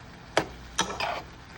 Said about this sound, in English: That's a lot of stirring.